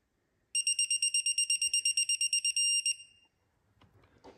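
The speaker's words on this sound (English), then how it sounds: "As soon as I get that beep, I stop turning." A Snap-on torque wrench, used while assembling the crankcase of a Porsche 911 997 engine, sounds a rapid run of about fifteen high electronic beeps, then a held tone, loud and close, followed by faint handling noise.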